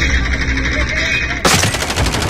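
Rapid automatic gunfire from the video game Call of Duty Warzone, a loud burst breaking in midway and continuing in quick repeated shots over the game's background noise.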